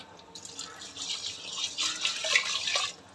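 Hot water pours steadily into a pressure cooker for about three seconds, a soft splashing hiss that rises and falls slightly, close by with no talking.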